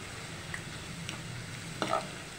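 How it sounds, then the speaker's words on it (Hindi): Onions fry in a pan with a soft, steady sizzle and a few faint clinks of stirring. It stays fairly quiet and close, with no talking. "बस प्याज हमारी अच्छे से फ्राई हो गई है"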